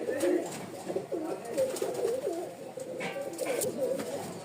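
Pigeons being sold as matched pairs in Rajshahi coo in repeated soft, rolling phrases close by, with a faint voice now and then in the background.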